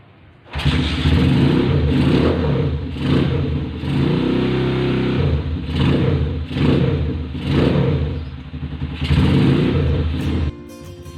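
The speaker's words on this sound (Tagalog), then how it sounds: "testingin natin, pa-startin na natin siya" A motorcycle engine cranks and fires, then revs repeatedly in rhythmic bursts of throttle, loud and close, before cutting off near the end; no one speaks.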